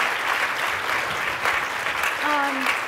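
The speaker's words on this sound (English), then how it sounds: "will you please give a round of applause for our audience, for our panelists, for being candid" A seated audience at a panel discussion plenary session in St. Louis gives the panelists a round of applause, dense and steady clapping filling the room throughout, with a brief tone rising over it near the end.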